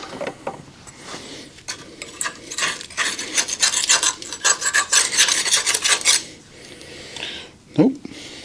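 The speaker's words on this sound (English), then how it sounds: "Let me find my scraper." Metal scraper rasps on an 83 K10 truck, scraping rhythmically in quick strokes that build and grow louder in the middle, then stop, with a faint clunk near the end.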